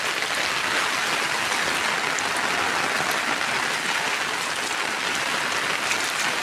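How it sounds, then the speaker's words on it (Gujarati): Heavy downpour drumming steadily on surfaces, a dense continuous roar of rain without pause; no distinct thunderclap stands out. "ગાજવીજ સાથે ફૂલ ધોધમાર વરસાદ।"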